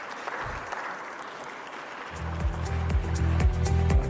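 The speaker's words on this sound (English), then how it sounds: "Another round of big applause to our Director General, please." Applause from a conference audience, starting as a thin patter and swelling after a couple of seconds into a steady, close crowd clapping with a faint voice underneath.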